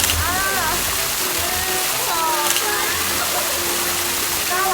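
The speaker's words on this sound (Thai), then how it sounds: "นี่นะคะมุมน้ำตกนะคะ" Waterfall at a nature-surrounded café splashing steadily in a continuous broad wash, with several people talking over it throughout.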